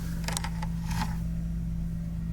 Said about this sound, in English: That's the door going.